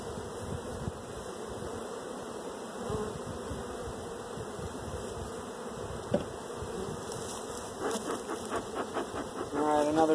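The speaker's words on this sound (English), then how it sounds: "another busy box of bees" Honey bees buzzing around a beehive box during frame pulling, a continuous close, droning hum with a soft thump midway and clicking handling noises toward the end.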